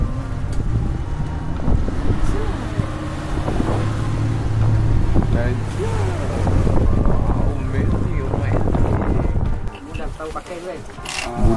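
A small snorkelling boat motoring across the water off Teluk Bakau, Pulau Tioman, a steady low engine drone with wind buffeting the microphone and voices talking over it throughout.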